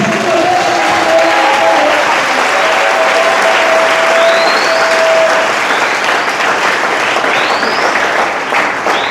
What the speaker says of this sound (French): Est-ce que tu peux acclamer Jésus?